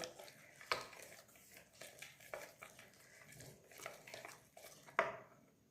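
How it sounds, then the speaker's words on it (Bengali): A spoon clinks and scrapes faintly against a bowl while cornflour batter is mixed for cauliflower manchurian, with a few sharper knocks among soft stirring. "ভালো করে ব্যাটারটা গুলবো। প্রয়োজন হলে আবার কর্নফ্লাওয়ার মেশাতে থাকবো।"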